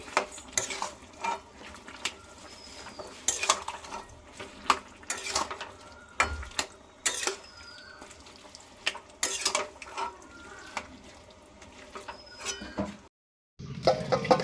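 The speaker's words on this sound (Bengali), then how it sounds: "নাড়িয়ে নিচ্ছি।" A spatula stirs pumpkin greens curry in a pan with repeated scraping strokes and clinks against the metal over a soft sizzle, irregular and close, ending in a brief silence.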